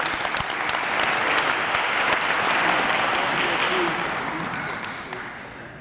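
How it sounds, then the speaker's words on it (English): Sustained audience applause at a Black History Month celebration honoring Winston-Salem police and fire department members, a dense steady clatter of many hands that tapers slightly near the end. "Anyone who serves that long needs another round of applause"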